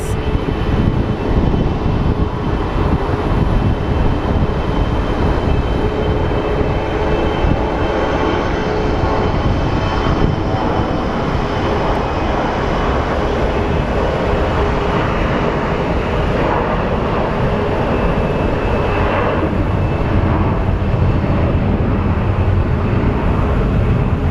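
A fixed-wing airplane takes off from Sky Harbor International Airport in Phoenix, its engine roar steady and loud, a broad continuous rumble that holds throughout without pause.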